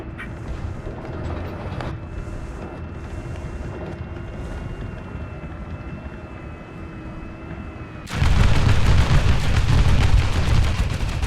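A 2S38 fires its cannon in War Thunder, a sudden loud blast that leaves a sustained heavy roar after a stretch of quieter engine rumble and battlefield noise.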